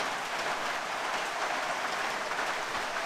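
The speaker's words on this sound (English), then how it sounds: "The rain seems to be coming right through." Pouring rain on a bikepacking trip along the Munda Biddi trail between Collie and Jarrahwood, a loud, steady, dense hiss that fills the whole stretch with no voices.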